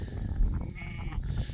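A sheep in a mixed sheep-and-cattle grazing herd on pasture bleats faintly amid rough outdoor wind and background noise.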